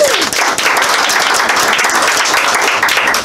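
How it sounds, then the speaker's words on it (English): Audience applause after a community talk on community-owned carnivals in rural Kansas: loud, sustained clapping from a crowd of many hands, close and continuous throughout. "Let's give her another round of applause"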